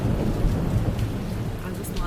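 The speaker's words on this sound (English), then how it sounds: "One thundery night I was cozy and warm, under the covers and safe from the storm." A night thunderstorm with steady heavy rain and deep rolling thunder rumbling throughout, loud and close, with no voices.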